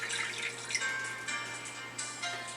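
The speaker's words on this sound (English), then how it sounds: "So I'm dumping the water now." Water poured out in a slime-making phone game, a soft trickling and splashing flow running steadily for a couple of seconds at low level.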